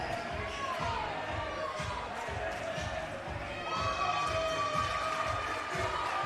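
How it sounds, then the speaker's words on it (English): A large crowd roars and cheers steadily in Pickens Springer Gymnasium after an Eagles basketball game, with bouncing ball thuds beating rhythmically underneath, whistles and squeaks on top, and the roar swelling louder near the end. "you can hear the roar of the crowd"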